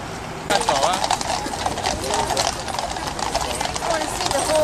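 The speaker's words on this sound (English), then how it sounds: "I want to see the horses." Horses' hooves clip-clop steadily at the changing of the guard at Buckingham Palace in London, a continuous rhythmic clatter amid a bustling outdoor crowd with people talking nearby.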